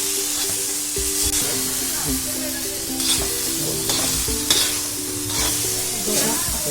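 Soaked chana dal pithla roasting in a pan, a steady loud sizzle with repeated scraping stirs and a faint tonal hum running underneath.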